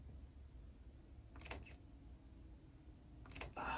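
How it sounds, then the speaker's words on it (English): A Leica M camera shutter fires twice, each a soft, brief mechanical click close by in a quiet room, with a gap of about two seconds between them. "I hear that shutter clicking"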